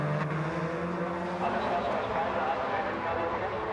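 DTM touring cars race at Hockenheim in 2000 as a steady wash of engine roar and crowd noise, with no single car standing out clearly. A commentator talks over it.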